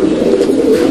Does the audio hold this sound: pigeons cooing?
yes